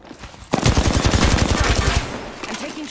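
Rapid automatic gunfire in a video game, a loud sustained burst of closely spaced shots lasting about a second and a half, close up and dominating the mix.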